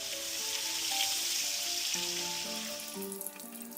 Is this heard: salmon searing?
yes